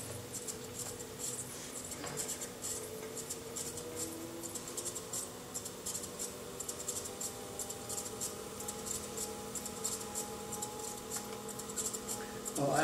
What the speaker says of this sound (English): trim the knob of the lid